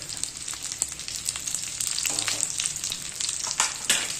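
Dry fruits, makhana, dry coconut and edible gum roast in a pan for methi dink laddoos, giving a continuous soft sizzle with scattered crackles and occasional stirring scrapes, no voices.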